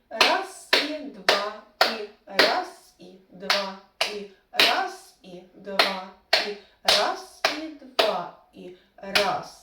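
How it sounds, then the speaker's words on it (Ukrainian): Hands clapping a counted rhythm in a first-grade music lesson, evenly spaced sharp claps about once a second, with a voice counting along between them. "Плескаємо, рахуємо ритм"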